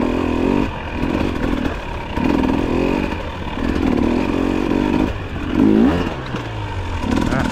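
A dirt bike engine revs in repeated bursts on a ride in Bath, Maine, rising and falling roughly every second or so, loud and close, with the clutch let out as engine pitch sweeps near the end.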